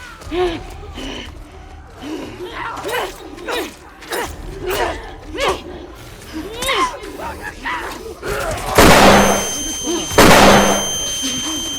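Someone talks for several seconds, then two loud booming blasts from an explosion in The Last of Us Part II hit in quick succession near the end.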